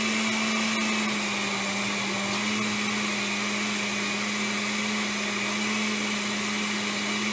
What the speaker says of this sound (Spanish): una vez que la licuadora ya esté trabajando